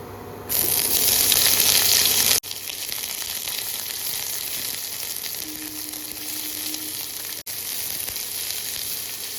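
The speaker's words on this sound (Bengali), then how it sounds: "পেঁয়াজটাকে দেখো একদম নরম করে ভেজে নিয়েছি" Chopped onion frying on a medium flame with black cumin seeds, a loud continuous sizzle, briefly brighter and hissier near the start, broken by a couple of short clicks.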